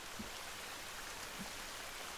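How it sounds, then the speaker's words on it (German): Heavy rain falling in the survival video game The Forest, a steady, dense wash of noise that stays even from start to finish with no voices over it. "wir wollen jetzt hier einen schweren Regen haben"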